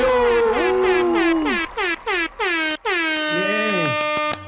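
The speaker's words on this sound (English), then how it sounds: "you got air horns" Loud air horn blasts open a podcast intro, a long sliding blare followed by a rapid string of short stuttering honks and a final sustained, wavering blast, all close and dominant.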